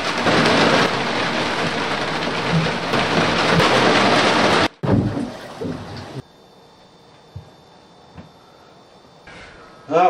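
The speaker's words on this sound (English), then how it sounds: "It's stormy." Heavy rain roars loudly through a thunderstorm with rumbling thunder, then cuts off abruptly into a much quieter stretch with a few faint knocks and a brief rustle at the end.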